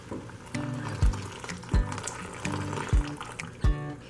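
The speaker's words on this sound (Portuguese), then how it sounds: "nós vamos cobrir com água morna esse arroz" Warm water is poured from above over rice in a container, giving a steady liquid splash with a rhythmic pulse of low thumps about every 0.6 seconds and no talking.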